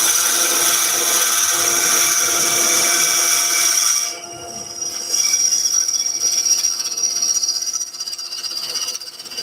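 A sharp lathe tool cuts and refines the outer shape of a spinning vase made of epoxy resin and pencil crayons, a steady continuous whine with a change in tone partway through, loud and without talk.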